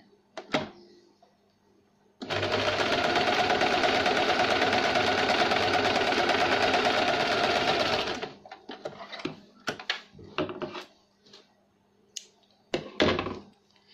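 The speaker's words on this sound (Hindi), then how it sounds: "जहाँ तक हमने निशान लगाया वहाँ तक हम सिलाई लगाएंगे। डबल सिलाई लगाएंगे।" A sewing machine runs in one steady burst of about six seconds, double-stitching a velvet princess-cut blouse along a marked line, with quiet handling clicks before and after.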